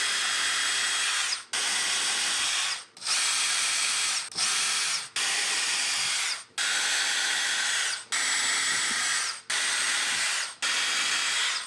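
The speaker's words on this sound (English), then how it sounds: "And then I'm just gonna drill straight through." Power drill boring up through a car's front lip from underneath, running in repeated loud, steady bursts of about a second each, separated by brief pauses, close up with no talking.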